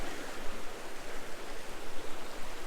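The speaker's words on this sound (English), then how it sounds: "Reached the bridge going across the creek." A creek in Pattison State Park, Wisconsin, flows under a footbridge with a constant broadband rush of water, close and steady, and no voices.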